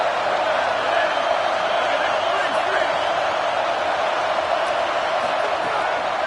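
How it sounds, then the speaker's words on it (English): Stadium crowd noise in a college football video game, a steady, loud, dense roar of many voices that never lets up, with faint scattered shouts rising through the wash. "this crowd trying to help keep them there"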